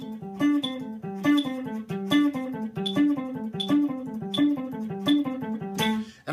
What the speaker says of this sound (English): So these are 8th notes or 16th notes. They're going to sound like this.